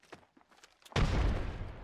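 A frag grenade goes off in the Apex Legends video game. Faint scattered game noises lead to a sudden loud blast about halfway through, followed by a rumbling roar that stays loud to the end.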